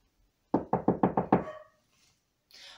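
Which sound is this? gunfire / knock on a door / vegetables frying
knock on a door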